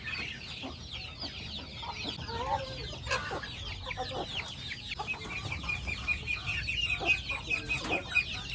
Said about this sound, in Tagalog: naghanap ng manok na magiging parte sa gagawin namin ngayong araw